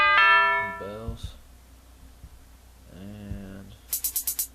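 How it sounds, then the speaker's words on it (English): Short bell tones in a hip-hop beat ring out in a quick run of five bright strikes near the end, following a few tonal musical hits. "Bells."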